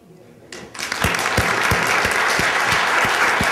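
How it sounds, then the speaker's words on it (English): Audience applause at a City College student panel, beginning softly and swelling into steady, full clapping from a crowd with a few louder individual claps standing out. "You stood up and you clapped for us"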